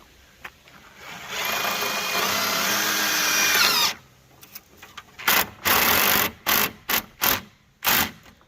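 Power drill driving blue metal roofing screws with small washers, a sustained whirring run of about three seconds followed by several short bursts, close and clear with no talk.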